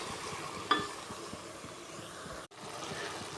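Leafy greens cooking in oil with turmeric and salt in a village kitchen, giving a steady soft sizzle with faint stirring taps and one brief sharp click near the start.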